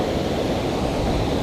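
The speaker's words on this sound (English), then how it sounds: "Wind's right in my face." Wind blowing hard straight into the microphone while fishing for steelhead in February, a loud, steady rushing buffet filling the short moment with no other sound.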